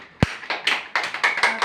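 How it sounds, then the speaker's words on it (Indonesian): A class claps during a microteaching math lesson, a short sparse run of about eight distinct hand claps, fairly close and uneven, with no talk over it. "Tepuk tangan buat kita, cepat."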